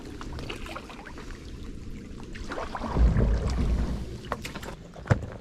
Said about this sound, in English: Paddle straight in here today